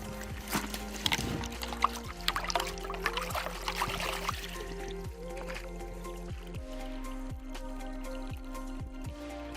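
Water splashing and dripping over a bowenite river rock as algae is washed off, wet trickles and squishy rubbing, close but fairly quiet over a steady low hum.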